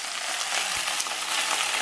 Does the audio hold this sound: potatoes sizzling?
yes